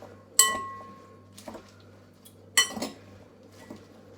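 Salad being tossed in a bowl with utensils: a few sharp clinks and scrapes spread across several seconds, close and otherwise quiet.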